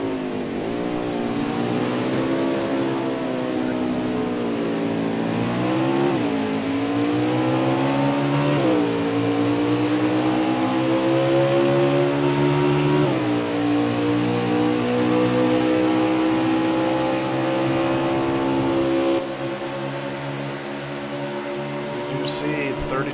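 NASCAR Winston Cup stock cars race at Canadian Tire Motorsport Park, loud engines rising and falling in pitch as cars pass close by one after another, with race commentary running over the roar.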